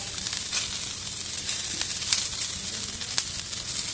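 Onions and green chillies sizzle in hot coconut oil in a pan for dosa, a steady close frying hiss with faint crackles and no talking.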